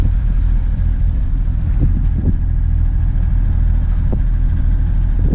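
A motorboat motoring across Conception Bay, Newfoundland, its steady engine drone and wind rumble running continuously and loud, with a few brief knocks from the hull on the water.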